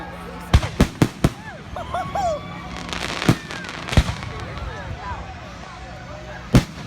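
Repeated fireworks bangs burst out at irregular intervals during a large, very loud display, with sharp close explosions between stretches of crackle while excited people shout and talk throughout.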